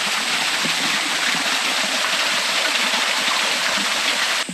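A small waterfall at a pretty garden spot in Babinda, Australia, a steady broadband rush of falling water, close and continuous with no breaks.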